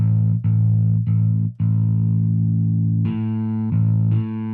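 Heavily distorted electric guitar chords from a Distorted Metal amp preset ring out loud and sustained, with a few sharp restrikes and a brighter, buzzier chord near the end.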